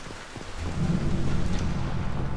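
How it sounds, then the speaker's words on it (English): Steady rain with low rumbling thunder in a Mass Effect 2 game level, the downpour swelling and thickening after a moment into a continuous close wash, with no talking. "there's actual rain effects going on"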